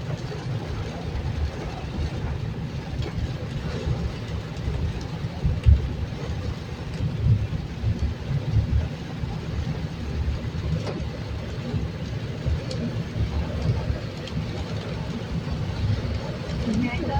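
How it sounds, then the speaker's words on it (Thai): Heavy rain falling in a steady, dense roar that runs unbroken throughout, with a few louder thumps; no talk over it. "ฝนตก"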